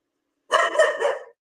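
A single short, bright dog vocalization up close, a quick bark-like yelp with a slight warble, set against silence.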